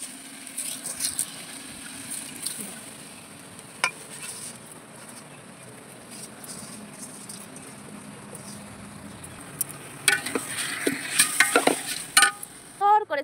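Rice with lentils and vegetables is sautéed in a pot for khichuri, heard as a faint stirring scrape and soft sizzle with sparse spoon knocks that grow busier and louder toward the end.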